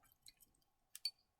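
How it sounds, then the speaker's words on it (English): A paintbrush is swished and tapped in a small water pot while drawing Zentangle greetings cards, giving faint close drips and two brief wet splashy clinks against the container. "I'm also going to make a noise as I clean my brush."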